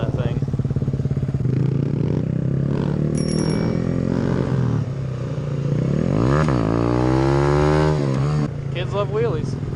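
A motorcycle rides and revs loudly and up close, its engine pitch sweeping up and down through several throttle bursts, with a voice talking over the engine noise.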